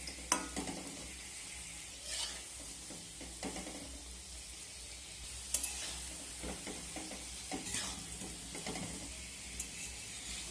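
Ripe mango fritters deep-frying in oil give a steady, close sizzle that runs throughout, broken by a few sharp clinks and stirring scrapes.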